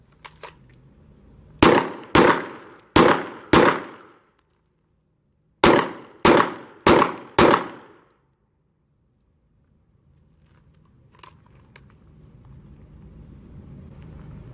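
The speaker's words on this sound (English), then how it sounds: "engage the target with 4 rounds kneeling in a time limit of 20 seconds" Two volleys of four sharp pistol shots each, fired at targets on an outdoor shooting range from a kneeling position, with a pause between the volleys and a quiet range afterward.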